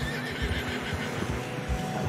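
A horse whinnies in the Red Dead Redemption 2 game, a clear neigh over faint hoof clip-clops and ambient game sound, with no talk.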